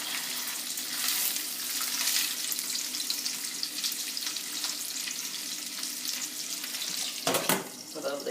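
Food laid into a hot browned pan sizzles and fries steadily, a bright continuous hiss with a brief clatter of tongs or the pan near the end, and no talk.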